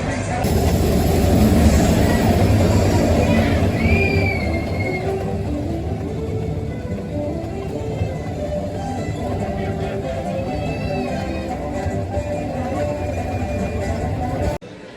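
A loud, continuous rumble from inside a moving train car, with rattling and clacking over the tracks and occasional faint squeals, steady for the whole stretch.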